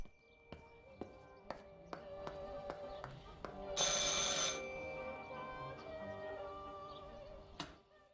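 A telephone rings in the horror video game Martha Is Dead: repeated electronic rings pulse through the clip, with a louder, noisy burst midway over faint background sounds.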